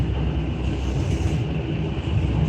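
Interior of a moving train in Moscow: a constant loud rumble of wheels and carriage with steady low-end drone, no voices.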